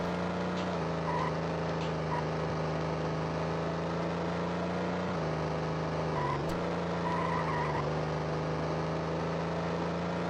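Car racing at night in Need for Speed Carbon: Own the City on Game Boy Advance, a constant buzzy engine drone holding a steady pitch with brief dips and shifts, loud and continuous throughout.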